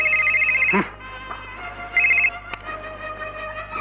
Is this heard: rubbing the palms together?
no